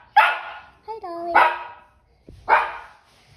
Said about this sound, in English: She's probably barking to get out, guys.